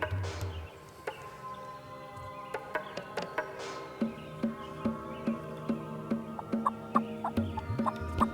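Wild turkey in the field during a hunt, with a series of sharp bird calls and knocks rising and falling in a busy outdoor mix, repeating in a steady rhythm toward the end.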